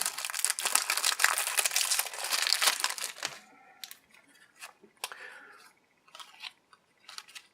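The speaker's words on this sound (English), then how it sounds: "this nice kind of shrink wrapped set. See if I can tear it open real quick." Shrink wrap is torn off a Pathfinder Critical Hit card deck: about three seconds of dense, close plastic crackling and ripping, followed by scattered short crinkles and rustles as the wrapper is pulled away.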